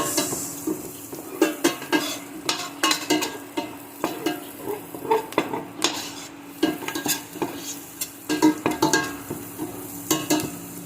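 Garlic browning with onions in a hot pan for buttered garlic seafood, a constant close sizzle broken by repeated sharp metal scrapes and clinks of a utensil stirring against the pan, with no voices.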